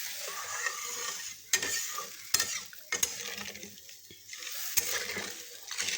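Mustard paste is stirred into a little water in a pan while cooking small hilsa fish. A soft sizzle runs under repeated scraping strokes and sharp spoon clinks against the metal.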